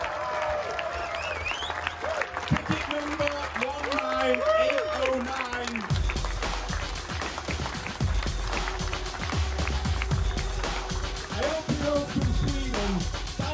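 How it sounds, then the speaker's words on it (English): An audience claps at a competition-winner bike handover, with applause swelling and continuing under someone talking over a microphone and crowd noise. "Give him a round of applause."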